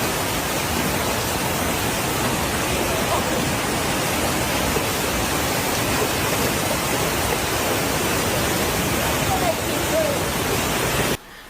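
Typhoon wind and heavy rain lash New Taipei, Taiwan, a loud, unbroken roaring wash that holds steady for many seconds, then cuts off abruptly at the end.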